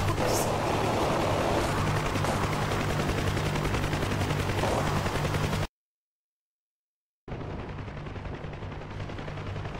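Helicopter gunfire in DCS sounds as heavy, continuous machine-gun bursts over a rotor rumble, loud and dense, cutting to silence briefly before resuming.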